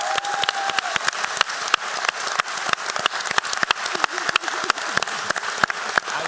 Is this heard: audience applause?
yes